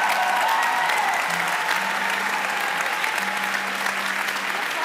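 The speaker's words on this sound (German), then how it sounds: "Gib nochmal einen fetten Applaus." Steady, dense applause from a crowd at a church youth event, continuous and loud throughout with a faint sustained tone underneath.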